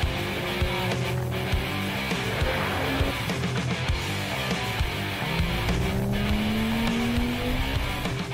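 A Volvo S60 racing car drives hard on a track, its engine roaring steadily with rising and falling pitch as it works through gears, with some tire noise and no voices.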